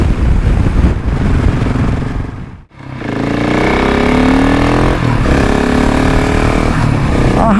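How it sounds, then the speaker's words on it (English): A Husqvarna 701 Enduro single-cylinder motorcycle engine while riding: loud, close engine drone with rising and falling revs and a brief drop near the middle, then strong climbing acceleration tones. No one speaks. "I hope you enjoyed this ride and review of this Husqvarna 701 with me."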